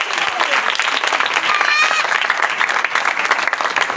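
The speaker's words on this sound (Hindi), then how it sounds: "प्लीज अब तालियां नहीं बजाइए।" An audience applauds at an evangelical Christian sermon on faith and hope, a steady, dense wash of clapping that fills the whole stretch at close range with no pauses.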